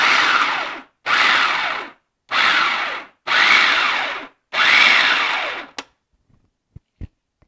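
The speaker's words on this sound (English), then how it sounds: "we're just going to kind of pulse this because we don't want it to be like our hummus" A food processor pulses a chunky chickpea mixture for vegan, oil-free meal prep, five loud whirring bursts of about a second each with short pauses, then a few light clicks and taps.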